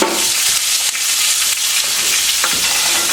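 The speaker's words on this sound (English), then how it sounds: "we're going to stir this up so that our carrots get coated in this mixture." Carrots being stirred into a boiling mixture in a cooking pot, giving a steady bubbling sizzle with scraping stirring strokes throughout, close and fairly loud.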